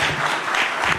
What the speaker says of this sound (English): Join me in giving our panelists a round of applause for their comments and their commentary, their leadership.